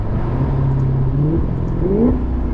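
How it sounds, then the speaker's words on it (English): A Maserati GranTurismo engine downshifts, its pitch blipping up in quick rises and falls over a loud, steady mechanical drone. "Nothing like those downshifts though"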